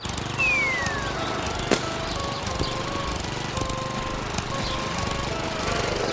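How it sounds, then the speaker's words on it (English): A lawn mower engine drones steadily and loudly throughout, with a rough buzzing tone and a brief clunk partway through. "Lawnmowers make a lot of air and noise pollution."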